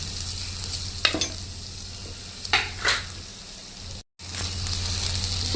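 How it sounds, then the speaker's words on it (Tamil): Pounded ginger garlic paste sautéing with softened onions for seeraga samba chicken biryani, a continuous close sizzle with three or four distinct scraping stirs in the pan. "தட்டி வச்ச இஞ்சி பூண்டு பேஸ்ட்டு அதையும் போட்டு நல்லா வதக்கி"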